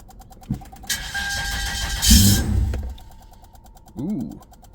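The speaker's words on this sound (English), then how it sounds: "it was able to start the engine" A car engine cranking and catching with help from a jump starter, a loud burst of cranking that settles into a rumble, with a voice reacting briefly afterward.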